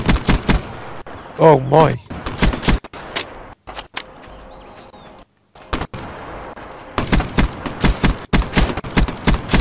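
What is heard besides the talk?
gunfire in the video game Black Ops 3 Nuketown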